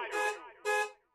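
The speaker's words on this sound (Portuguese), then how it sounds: "Atenção lá, ó, buzina." A car horn honks in traffic, giving two short, loud blasts close together and the start of a third. Each blast is a bright, tonal burst with quiet gaps between.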